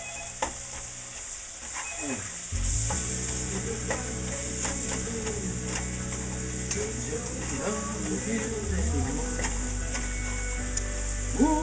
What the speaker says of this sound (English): Got to get this mixed up in there because that bacon, looking kind of heavy.